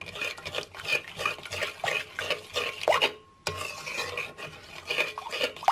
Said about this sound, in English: just mix all of the chocolate in